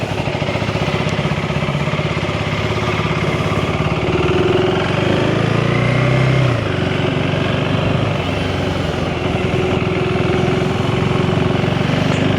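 KTM 390 Enduro R single-cylinder motorcycle under way, a steady mid-pitched engine drone with wind rush throughout, engine note rising and falling slightly as it rides along, no talking.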